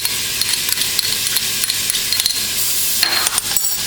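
Butter and garlic cooking in a pan on a stove set to medium-high: a steady sizzle with light utensil taps and stirring clicks scattered throughout, close by.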